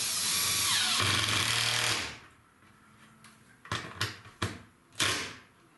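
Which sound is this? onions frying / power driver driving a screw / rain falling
power driver driving a screw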